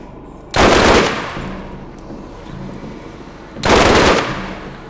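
Two loud, close bursts of rapid gunfire from a video game, a few seconds apart, with a quieter gap between them.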